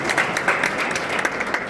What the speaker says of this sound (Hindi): इसलिए मैं भी ताली बजा देता हूँ।